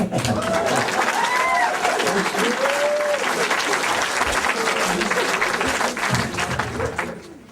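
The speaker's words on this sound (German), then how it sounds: "an dieser Stelle gibt es auch einen Applaus" Audience applause at a comedy show in Darmstadt, a loud, sustained clapping crowd with a few whistles and cheers over it, fading slightly at the end.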